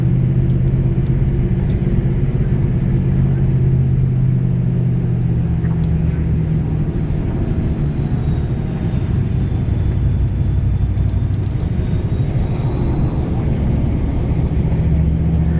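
A bus engine rumbles steadily as it climbs uphill to a parking lot on a road in Tunisia, a continuous low droning motor heard from inside the vehicle without talk.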